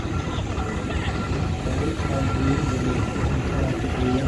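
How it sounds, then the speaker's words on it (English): A showman's steam engine with a canopy rumbles past at a vintage steam rally in Gloucester, a steady, fairly close low mechanical drone with chuffing texture continuing throughout, with faint crowd talk underneath. "what looks like a showman's engine with a canopy."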